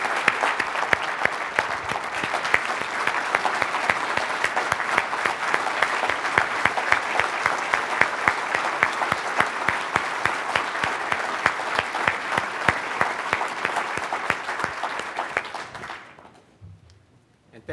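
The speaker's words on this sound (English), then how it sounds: "So let's give them a huge round of applause." An audience at a rural housing leadership event applauds, dense steady clapping lasting about sixteen seconds before fading out, with a voice faintly under it.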